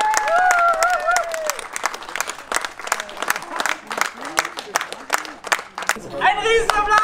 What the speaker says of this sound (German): Ein riesen Applaus.